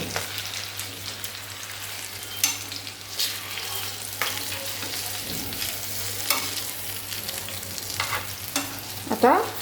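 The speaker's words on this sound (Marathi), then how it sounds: "तुम्ही पाहू शकताय किती छान फ्राय झालेत" Chillies stuffed with besan (gram flour) fry on a low flame in a pan, giving a steady crackling sizzle with occasional scraping stirs. The sound is continuous and close.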